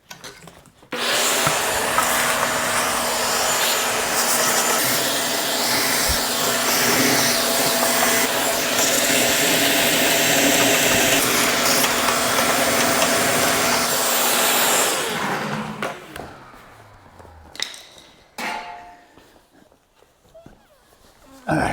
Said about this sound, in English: let me vacuum all this crap off of here